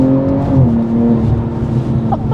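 A BMW M240i G42 revs up close by, its intake note rising and settling in a steady, loud engine drone for a couple of seconds.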